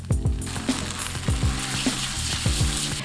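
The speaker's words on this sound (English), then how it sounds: "Then I will toss it through the noodles. Give it a stir until they are mixed." Egg and noodles are stir-fried in a hot pan, with a sizzling hiss under repeated rhythmic scrapes and clanks of a spatula tossing the mixture, close and without talk.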